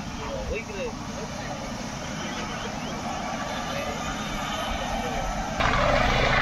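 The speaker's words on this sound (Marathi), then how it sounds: "आणि हा बघा आता चालू सुद्धा झालेला आहे हेलिकॉप्टर" A helicopter engine drones steadily nearby, idling on the ground with no one aboard yet, under people talking at a crowded ceremony at Raigad fort; its rumble swells louder toward the end.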